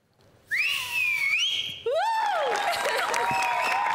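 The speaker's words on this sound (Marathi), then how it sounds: "पहिली शिट्टी तुमच्यासाठी." Loud, close whistling on the stage of a television comedy show: two long sliding whistles, the first rising and wavering, the second swooping up and down, with faint crowd noise behind.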